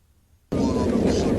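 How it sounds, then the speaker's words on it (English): An MK-84 JDAM bomb explosion bursts in abruptly after a short silence, then holds as a loud, dense, sustained roar to the end. "And this is what the JDAMs sound like."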